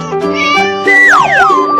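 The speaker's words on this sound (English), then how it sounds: "Cat." A cat meows loudly and close, one short call followed by a longer rising and falling meow, with nothing else in the background.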